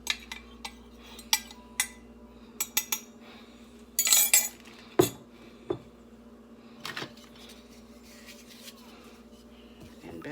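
Cutlery and a spoon clink against a bowl while flour is stirred into sticky bun dough, with scattered scrapes and taps at an uneven rhythm and a louder clattering burst midway.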